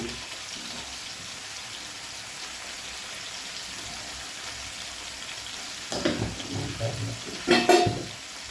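Tomatoes with salt frying in a pan, a faint continuous sizzle that turns into louder stirring and scraping clatter near the end.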